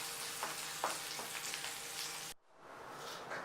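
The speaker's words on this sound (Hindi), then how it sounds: "और इहदे विच असीं अपना प्याज पा देंगे। जीरा असीं पहले पा चुके हैं टमाटर" Chopped onion hitting hot oil in a pan with cumin already added, for a tomato egg omelette: a steady, close frying sizzle with a few stirring scrapes, which cuts off sharply and then returns quieter.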